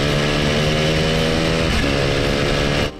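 A Hercules W2000 motorcycle with a Wankel rotary engine runs close by, giving a loud, steady buzzing drone with a slight pitch shift midway, then drops off abruptly near the end.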